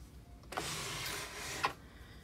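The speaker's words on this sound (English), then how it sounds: "Gonna turn on your sewing machine." A sewing machine used for making a wig runs in one brief burst of about a second, a close, steady motorized whir that starts and stops abruptly.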